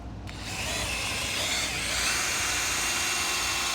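A power drill bores a pilot hole into tough scrap wood, a steady high whine with grinding bite that starts abruptly and holds loud and close throughout, with no talking.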